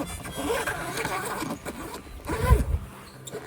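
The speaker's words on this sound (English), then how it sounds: "then you just zip that one up, this one way forward, all the way to the front" A zipper on a camping awning cover of a Vagabond Rogue camper is drawn along in a few close strokes, with a louder pull near the end and a man's speech faintly around it.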